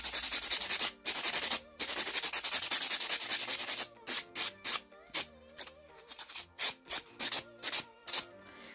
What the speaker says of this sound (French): Un dernier coup avec le bloc polissoir.